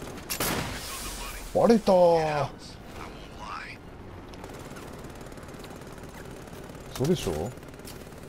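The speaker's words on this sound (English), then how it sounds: "Automated Severance Aircraft armed with barely mounted minigun." Automated aircraft with a mounted minigun in the video game Batman: Arkham Knight opens fire in bursts over a whirring rotor drone, with a player talking over the gameplay.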